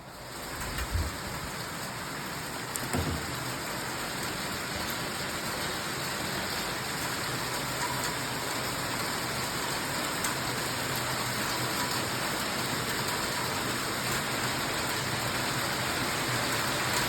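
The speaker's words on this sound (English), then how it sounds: "I guess it's raining." Steady rain falls throughout, a dense even hiss with a soft low thump near the start, no voices.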